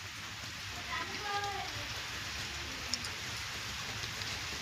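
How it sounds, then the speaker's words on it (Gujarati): Rain pouring over a farm field of maize and cotton, a steady hiss of drops throughout, with a voice speaking briefly over it and a faint click near the end. "જો વરસાદ કેટલો ચાલુ છે."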